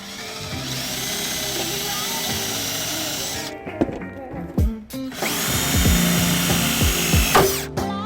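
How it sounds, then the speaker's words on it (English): A power drill bores a pilot hole for a trailer hitch on a 2017 BMW X1, whining steadily up close for a few seconds, pausing amid clunks and knocks, then drilling again in a second long run. "But before I can use this, I need to do a pilot hole."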